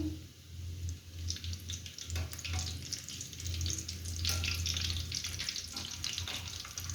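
Chicken cheese rolls frying in oil until golden, a steady close crackle and hiss with a low hum running underneath, no voices present.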